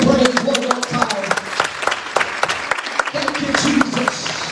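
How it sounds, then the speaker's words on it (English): A church congregation claps in praise after a sermon, with loud, busy applause and sharp individual hand claps mixed with voices and cheers from the crowd. "Let's give him a good hand clap of praise one more time."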